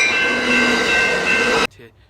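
A loud, steady roar and rattle of a train rolling past nearby, cutting off abruptly near the end.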